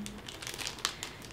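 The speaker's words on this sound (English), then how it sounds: "sorry again for the crinkling." Close, soft crinkling of plastic packaging being handled while unboxing a book subscription box, a short burst of rustles and crackles.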